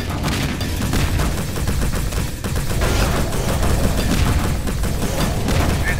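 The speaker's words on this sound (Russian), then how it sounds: "Аккуратно, робот стреляет." A robot firing in the video game Plazma Burst 2: rapid, sustained gunfire bursts with booming low-end impacts, loud and continuous throughout.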